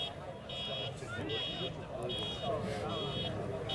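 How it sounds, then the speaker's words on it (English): A car alarm beeps in steady repeating bursts, somewhat distant, over crowd noise and a voice commentating at an A Grade football grand final. "Sounds like someone's broken into a car down there somewhere. There's an alarm going off."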